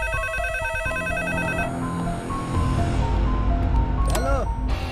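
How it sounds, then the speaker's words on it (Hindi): A telephone rings repeatedly with an electronic ringtone over a dramatic movie soundtrack, the ringing fading as heavy music and low rumbles take over, followed by a brief swooping tone. "अरे कौन है जो बार बार फोन कर रहा है और बोल भी नहीं रहा है?"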